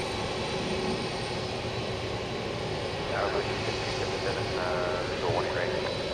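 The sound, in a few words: Boeing 767 jet aircraft at DFW Airport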